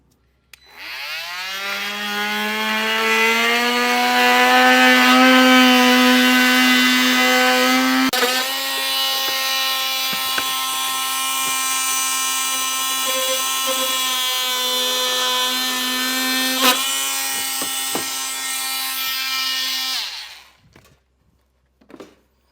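A power tool trims plastic from the grille of a 2020 Jeep to fit a base plate, a loud, steady high-pitched whine that starts up, holds for about twenty seconds with slight pitch changes and brief cutting bursts, then winds down.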